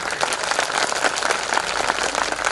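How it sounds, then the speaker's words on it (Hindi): Crowd at a Dhamma Vijay Diwas celebration gathering clapping loudly and continuously, a dense steady wash of many hands without pauses. "ताली जोर से बजाएं भाई, ताली जोर से बजाएं।"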